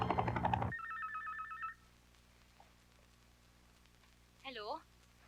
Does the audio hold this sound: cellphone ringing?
yes